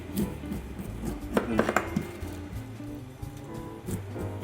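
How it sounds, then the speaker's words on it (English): A knife runs down the sides of a pineapple to strip its tough skin on a board, producing scraping cuts and a few sharp knocks and clinks close up, with brief gaps between strokes. "Run your knife down the sides, taking off the hostile exterior skin of the pineapple"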